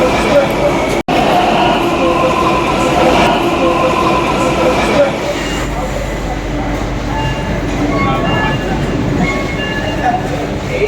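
A metro train rumbles and roars loudly through a Delhi metro station near New Delhi railway station, its sound shifting as it slows and settles, with voices chattering in the background.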